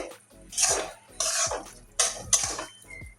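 A metal lid goes onto a cooking pot of red amaranth greens with okra, making several short clattering clanks and rattles spaced roughly half a second apart, close and fairly loud.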